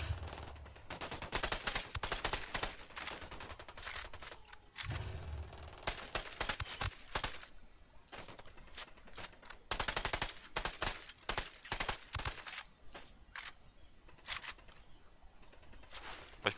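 Gunfire in the tactical shooter Ghost Recon Wildlands: repeated bursts of automatic fire and single shots, some loud and close and others more distant, coming in clusters throughout.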